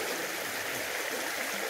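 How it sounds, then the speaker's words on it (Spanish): A clear, clean river flows through the Darién jungle. The water makes a steady, continuous rushing and babbling that fills the space evenly, close and moderately loud, with no voices. "como un río, el que escuchamos que es un agua totalmente limpia, totalmente transparente"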